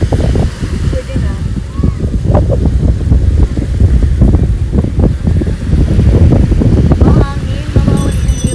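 Strong wind buffeting the microphone at a scenic viewpoint by the sea, a loud, continuous rushing roar with gusty bursts that partly masks a person talking.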